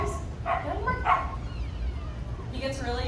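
An excited dog barks in sharp, repeated bursts while a trainer cues it through behaviors in a training demonstration; the barks are close and sit over the trainer's steady talking.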